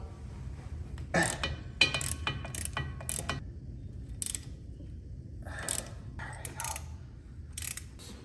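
A socket ratchet works on bolts on a 7.3 OBS Ford F350 truck, giving quick bursts of close, crisp clicking in several uneven runs separated by short pauses.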